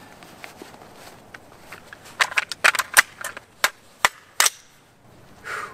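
Rifle shots ringing off a steel target at an outdoor range, a cluster of sharp, loud cracks spaced irregularly over a few seconds above low background noise.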